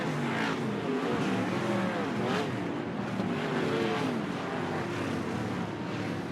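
Dwarf race cars roaring around the Sunset Speedway oval right after the green flag, a dense continuous engine drone with rising and falling revs as cars pass, loud and unbroken for the whole stretch.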